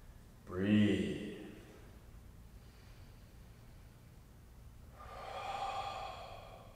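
Slow, steady yoga breaths: a long, breathy inhale swells and fades near the start, then after a quiet pause a second, softer, airy breath rises and lingers toward the end.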